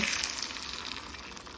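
A soft, steady sizzle of hot oil poured over chopped mango for pickle, close and continuous, with no talking.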